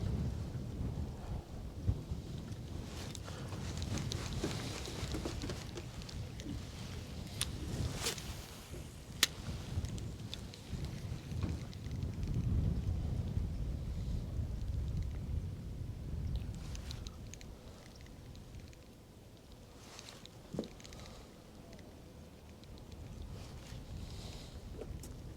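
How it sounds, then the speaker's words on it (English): Steady low wind rumbling and buffeting outdoors around a fishing boat, a moderate breeze rather than a gale, with a few faint knocks and clicks over a continuous soft roar. "You can hear that wind. I mean, it's not a hard wind,"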